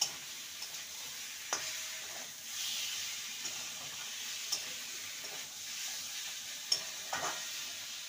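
A spoon stirs a potato and pointed gourd curry in a pan, with a soft steady sizzle and a few light scraping knocks spread through the stretch, no voices.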